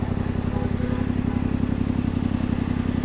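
A motorcycle engine runs close by in city traffic at a red light, a steady, rough mid-pitched drone with rhythmic pulsing and slight revving throughout.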